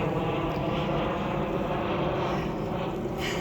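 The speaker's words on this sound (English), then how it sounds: "we are like right in the flight zone of the airport" An airplane flies low over a garden in an airport's flight path, a steady droning engine roar that holds evenly for a few seconds with no one talking.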